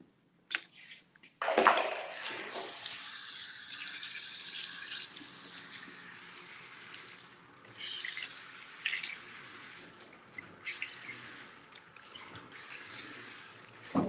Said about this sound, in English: let me just rinse off our signature cleanse